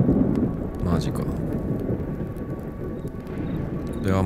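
Steady rain pours and a low thunder rumble rolls through a stormy scene in the video game S.T.A.L.K.E.R. 2, a dense continuous wash of noise throughout.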